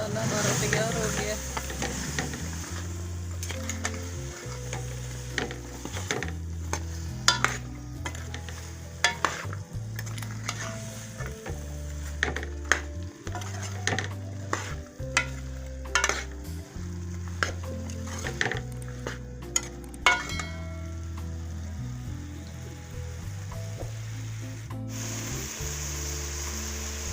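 Potato and cauliflower pieces frying in a spiced masala in a pan for aloo gobi, with a continuous sizzle and frequent clattering stirs of a spoon against the pan, all over a steady, tonal background bed.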